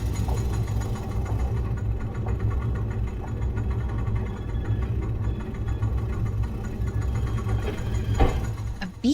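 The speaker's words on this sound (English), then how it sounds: "So we're gonna pull this lever. And ride the elevator up." Elevator riding up in the video game Myst III: Exile, a steady mechanical hum with a low droning rumble throughout and a faint rattle near the end.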